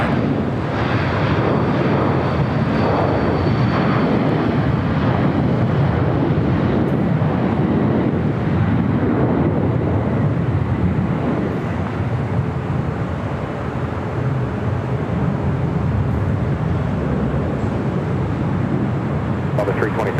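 A United 757-300 airliner rolls down runway 25 right at LAX with a continuous broad roar and heavy wind rumble on the microphone, while someone talks over it.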